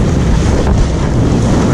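A boat heads back into Mgarr harbour, the main port of Gozo, with steady, loud wind rushing across the microphone and a dull rumble of water and hull running continuously throughout.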